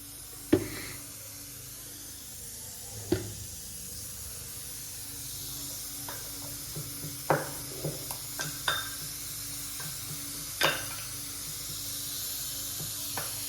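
Cooking oil heating in a pan in a home kitchen gives a steady, soft hiss throughout, broken by occasional sharp pops and crackles spread irregularly across the span, with no talking.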